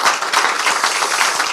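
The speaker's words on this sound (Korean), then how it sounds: "힘내시라고 박수 한번 주시기 부탁드립니다" A crowd applauds at a Korean party meeting to encourage a tearful speaker. The clapping is dense, loud and sustained, with no pause across the whole stretch.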